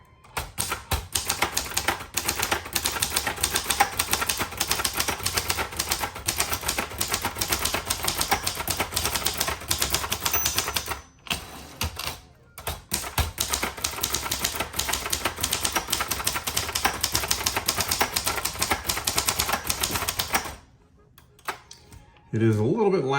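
A 1974 Sears Manual 1 typewriter built by Nakajima typing steadily, loud and clanky keystrokes in dense rapid bursts with brief pauses, a carriage return, and a voice talking near the end.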